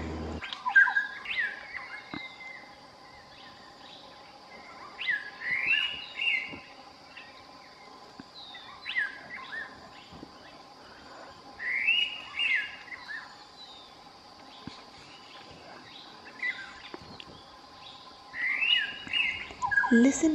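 Indian pitta calling in the forest of Tadoba Andhari Tiger Reserve, a pair searching tree to tree for a nesting site; short whistled calls repeat every few seconds, moderately close, over a steady insect drone.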